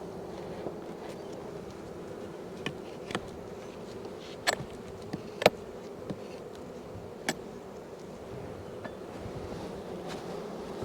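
Honey bees hum steadily around an opened hive box, a low continuous drone with scattered sharp ticks and knocks of equipment, moderately close and fairly even in level throughout.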